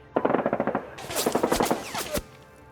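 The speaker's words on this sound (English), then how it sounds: "he advances out of the ruins and fires with his SMG" Rapid submachine gun bursts as a sound effect for a Konflikt '47 tabletop wargame battle between Japan and British Commonwealth forces, a loud steady string of shots followed by a second denser volley with a sharp crack at the end.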